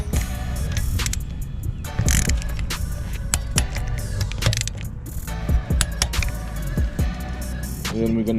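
Ratchet tightening chain and sprocket bolts on a Yamaha YFZ450R quad, a run of quick metallic clicks and clatter in a workshop, loud and close with steady mechanical activity and no talk.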